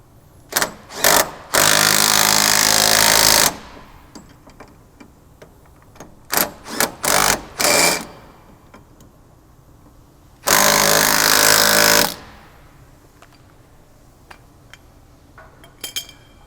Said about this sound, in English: unfortunately I have to use my crescent wrench